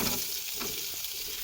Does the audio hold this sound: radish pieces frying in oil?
yes